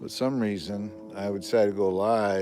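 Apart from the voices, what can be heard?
No everyday noises stand out.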